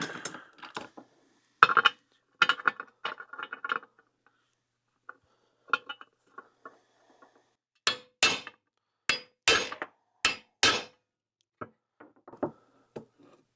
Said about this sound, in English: I'm going to try and just knock it out right now with a socket.